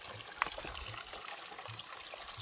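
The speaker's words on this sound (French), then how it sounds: "il y a un joli petit cours d'eau." A small, clear stream flows beside a hiking trail on the Cathar path near Montségur, trickling softly and continuously at close range with faint gurgles.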